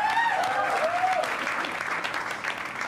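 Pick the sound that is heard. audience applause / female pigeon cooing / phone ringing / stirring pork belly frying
audience applause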